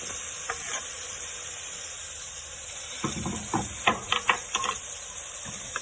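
Tomatoes and chilli masala fry in a pan for mutton curry, a steady close sizzle that turns busy in the second half with a run of scraping spatula stirs.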